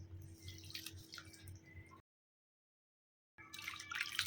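Water is poured into wheat flour dosa batter with soft trickling and dripping, a quiet liquid sound that stops briefly and then resumes more busily.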